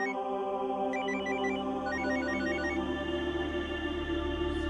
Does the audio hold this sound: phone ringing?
yes